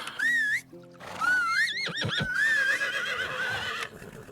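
A horse in a video game, Medieval Dynasty, whinnies twice, loud and close, the second neigh longer and wavering, with a few hoof clops mixed in.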